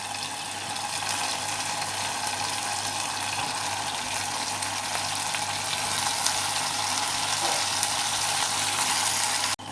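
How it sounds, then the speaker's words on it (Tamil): A steady, loud sizzle of eggplant slices frying in a hot pan, a continuous crackling hiss with no talking. "இப்போ இதில் வந்து கத்திரிக்காவை சேர்த்துடலாம்"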